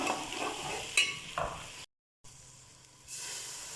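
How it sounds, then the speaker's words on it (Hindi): Spices frying in a pan for chicken palak sizzle loudly as a little water is added, with brief stirring clatters, then a cut to a quieter, steady hiss that swells again near the end. "थोड़ा सा पानी डालते हैं ताकि मसाले हमारे जले ना।"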